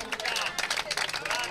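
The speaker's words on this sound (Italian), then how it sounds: "vorrei che facessimo ancora un grande applauso al nostro Luca" Audience applause at a triathlon sprint-race award ceremony: a short, dense burst of many hands clapping at once, steady and fairly loud throughout with some crowd murmur.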